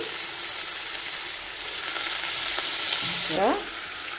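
Mustard and poppy seed paste with ginger, onion and garlic frying in a pan for a prawn dish: a continuous close, bright sizzle, with a short scraping stir near the end.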